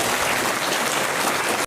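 Dense, loud applause from a university lecture audience, steady across the whole stretch and cutting off abruptly near the end, with no talk over it.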